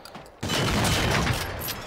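A dense burst of rapid gunfire from the video game Generation Zero erupts abruptly after a brief quiet moment, then rattles on loud and continuous to the end, with no talking over it.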